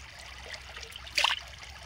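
Clean water trickles gently during night fishing with a net, with a brief, brighter splash of pouring midway, close and fairly quiet.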